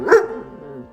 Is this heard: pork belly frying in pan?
no